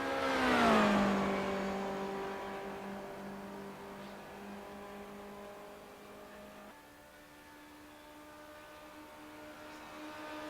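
Race cars lap the Daytona Road Course in the iRacing video game, a distant engine whine rising and then settling into a steady droning pitch that shifts partway through, fairly faint and without talk.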